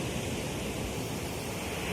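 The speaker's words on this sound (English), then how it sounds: "enjoying the waves and ocean power" Ocean waves break on a lava sand beach in Bali, a constant broad rushing wash heard steadily throughout with no voices.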